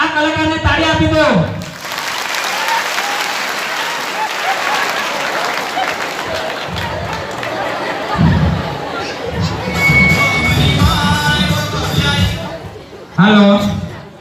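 At an outdoor Dangi comedy show for World Tribal Day in Surkhai, Chikhli, a large crowd bursts into sustained loud applause with cheering and children shouting, framed by an amplified voice speaking at the start and end.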